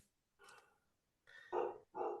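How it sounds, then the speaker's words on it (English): A dog barks three or four times at close range, the barks coming in a quick, uneven sequence. "Who's barking?"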